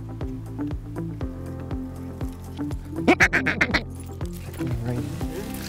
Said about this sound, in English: the ducks started to come.